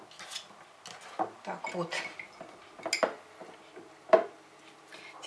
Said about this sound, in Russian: Можно баночку немножко потрясти, чтобы помидорчики хорошо отсели.